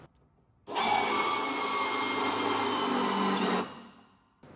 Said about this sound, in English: We are drilling out all the factory spot welds from the top and from the bottom